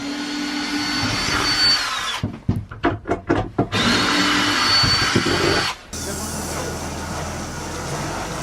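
Power drill driving into timber while building a wooden garden shed on an allotment, heard as a few short, loud stuttering bursts in the middle over steady outdoor background noise.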